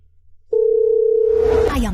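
A telephone dial tone starts abruptly and holds as a steady, loud, single pure tone for about a second before a voice cuts in over its end.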